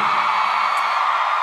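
Concert crowd at a large K-pop festival show cheering and whooping for a singer, a dense sustained roar of many voices with shrill whoops, steady and loud throughout without a break.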